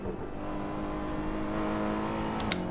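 A BMW GT3 race car engine hums steadily in Assetto Corsa racing, a continuous mid-distance drone with a few faint clicks near the end.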